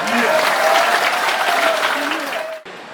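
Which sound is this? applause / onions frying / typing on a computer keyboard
applause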